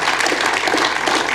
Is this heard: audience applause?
yes